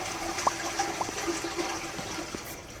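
A toilet flush in the video game Internet Cafe Simulator 2, heard as a steady rush of running water with a few faint clicks and trickles, fading slightly toward the end.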